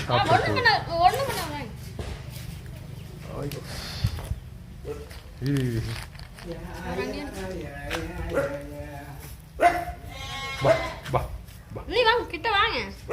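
A dog yips and barks in short bursts while people talk nearby on a farm, the barks rising and falling between their voices.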